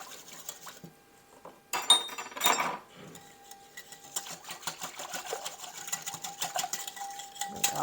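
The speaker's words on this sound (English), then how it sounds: "Now we'll give it a whisk up." Salad dressing with garlic salt and onion flakes whisked in a bowl, quick light metallic clicking and rattling close up, with a short louder clatter partway through.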